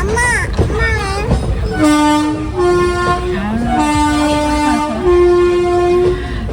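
A train rumbles past nearby while its horn sounds several long, loud blasts in a row.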